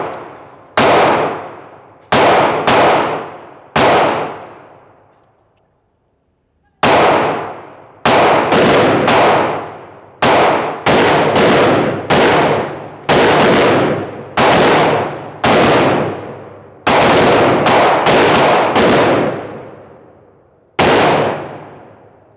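A Glock 25 Gen 3 pistol firing at a range: loud, sharp shots, single and in quick strings, with a long pause after the first few, each crack ringing out briefly.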